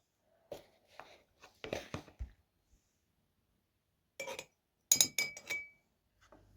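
Glass clinks and knocks sound as freshly grated horseradish is spooned into a small glass jar, a few sparse taps in two clusters separated by quiet, close and fairly soft.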